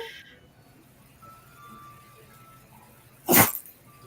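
A single sharp, brief dog sneeze breaks a quiet room near the end, close and fairly loud.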